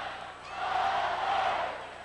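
Homecoming football crowd at a Georgia Southern game against Appalachian State, a steady roar of cheering and shouting that swells through the middle and holds, with no clear talk over it.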